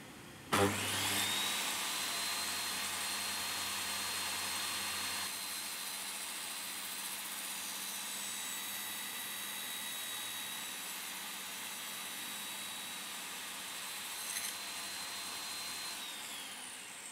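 A shop vacuum in a woodworking workshop starts with a sudden thump and spins up to a loud, steady whine as it extracts sawdust, droning continuously up close with no talking.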